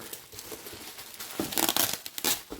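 Packing tape is unrolled and torn while furniture is unboxed, giving close, crackly peeling and ripping bursts that grow louder in the second half, with no talking.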